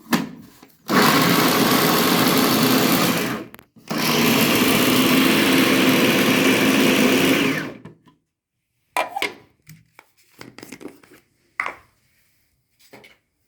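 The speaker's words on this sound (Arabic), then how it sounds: "زي ما قلت لكم اروح فرمه فرمتين" An electric food chopper whirs loudly while chopping garlic, running in two sustained bursts of several seconds each with a short pause between, followed by quiet handling clatter and scraping.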